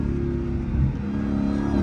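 A Dodge SRT Hellcat engine revs hard nearby, a loud, deep mechanical roar that climbs and holds with a strained whine, steady for under two seconds with no talk.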